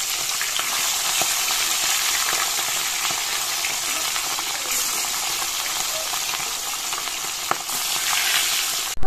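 A rohu fish head fries in hot oil in a home kitchen, a loud, unbroken hiss and crackle of spitting oil with a couple of faint sharp clicks, heard close up and alone.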